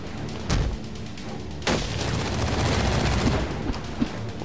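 Bursts of gunfire in the video game Batman: Arkham Origins, a loud volley and then sustained rattling shots with booming hits, dense and close, with no talking.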